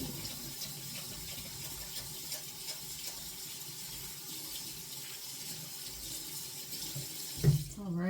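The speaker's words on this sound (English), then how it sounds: "we wash our hands again." Kitchen tap running steadily while hands are washed after handling raw meat, a constant close splashing water rush that shifts briefly near the end as the flow changes, no clear talking.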